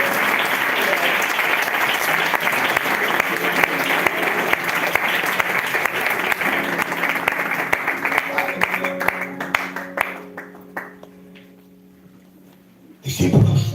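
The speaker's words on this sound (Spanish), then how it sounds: "Puedes aplaudirle al Señor" A church congregation claps and applauds loudly and steadily, fading out gradually until only faint tones remain, then a brief loud burst at the end.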